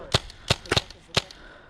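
Airsoft gun with a high-capacity magazine dry firing, four sharp clicking snaps in an uneven rhythm, close and fairly loud with quiet gaps between them.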